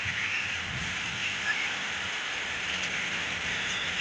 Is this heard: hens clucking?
no